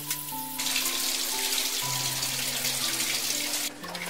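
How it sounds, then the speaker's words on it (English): Water runs from a faucet into a top-loading automatic washing machine as it fills, a continuous splashing stream heard close up with faint mechanical hum beneath. "The washing machine will start the entire process of automatic water filling, washing, rinsing, and dehydration."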